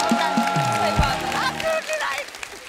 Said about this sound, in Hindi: जोरदार तालियां हो जाए।